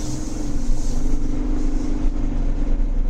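A 2022 GMC Sierra pickup truck accelerates while towing a trailer, with a steady low engine drone and road rumble heard from inside the cab, holding constant and fairly loud throughout.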